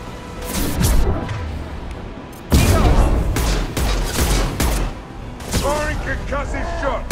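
Concussive shot power fired in Mass Effect 2, heard as sharp booming blasts with whooshing impacts amid game combat noise, a loud burst near the middle followed by further hits and a voice speaking.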